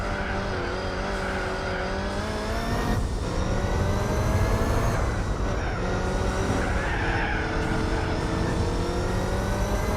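Race car in Gran Turismo 4 at Laguna Seca, its engine holding a loud, steady drone through the whole run while tires squeal and scrub through the corners.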